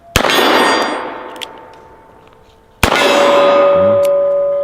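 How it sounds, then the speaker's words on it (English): A .44 Special revolver fired at a steel gong, heard as a sharp bang with a loud metallic clang that rings and decays, then a second hit with another long ringing tone. "I'll send one out there at the gong."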